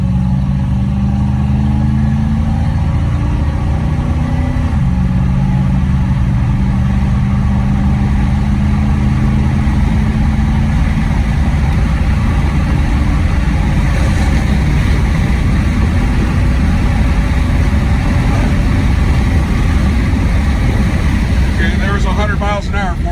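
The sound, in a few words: 1979 Magnum GT car engine accelerating on a flat road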